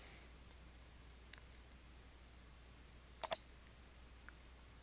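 Two quick mouse clicks come close together, faint and isolated against a quiet background, with a softer tick or two elsewhere and no talking.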